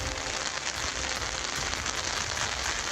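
Steady monsoon rain falling hard and continuously, a dense close hiss with scattered drops pattering on surfaces, no voices.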